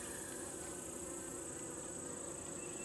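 Honeybees inside a hive around a newly introduced queen give a steady, faint, continuous buzzing drone with no talking.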